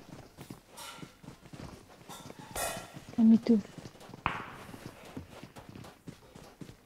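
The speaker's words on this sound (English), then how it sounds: "I hear footstep." Footsteps in an online multiplayer shooter game, a light series of quick steps running under tense talk from several players, with a couple of louder thuds partway through.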